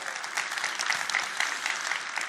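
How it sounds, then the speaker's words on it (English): Audience applause at the Trellis Impact conference, a steady wash of many hands clapping at moderate level, dense and even for a couple of seconds. "can we have one more round of applause for Anusha?"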